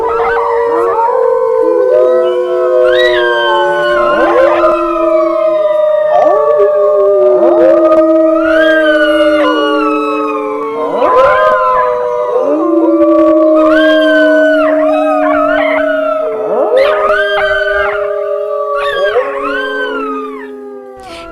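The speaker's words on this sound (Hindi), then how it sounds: "जंगल से दूर सियारों का हुआ हुआ करके चिल्लाने की आवाजें आनी शुरू हो गई" A pack of jackals howls from a jungle, their long wavering cries rising and overlapping in repeated loud waves with yips mixed in, continuing without pause.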